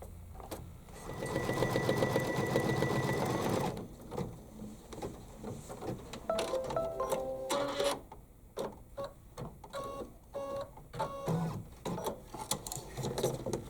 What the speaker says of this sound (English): I'm going to put it back in and stitch the whites of the eyes.